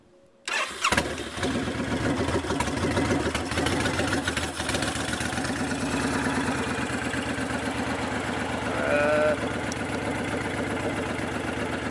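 A 2010 Fury motorcycle engine cranks and catches after a short quiet moment, then settles into a steady, loud, close idle that runs on with a slight surge near the end.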